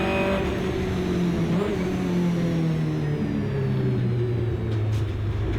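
A 750MC Hot Hatch race car runs at speed on a wet Silverstone International circuit, its engine droning steadily from inside the cabin as the pitch slowly falls, with a continuous loud roar and no talk.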